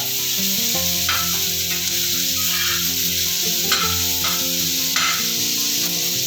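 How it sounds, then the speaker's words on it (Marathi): Onions browning in a pan for a village-style mutton curry sizzle and fry steadily, with a few clinks and scrapes as they are stirred, close and continuous with no talk. "कांदा आम्ही जरा थोडासा लाल करून घेतो जरा लालसर करून"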